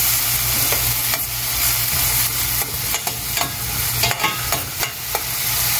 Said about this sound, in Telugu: టూ మినిట్స్ పాటు ఫ్రై అవనిద్దాం